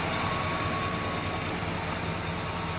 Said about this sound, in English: Engine idles nice and smooth.